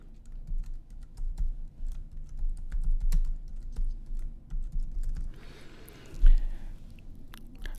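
Irregular keystrokes on a computer keyboard as a folder name is typed, soft close taps in uneven bursts with a short rustle near the end, no voices.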